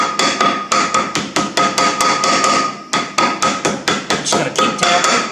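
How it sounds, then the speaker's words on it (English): A rubber hammer taps on a John Deere 5065E engine part during a rebuild, in a steady series of close, sharp knocks at a brisk rhythm that pauses briefly, then resumes. "I'm just going to get my rubber hammer here."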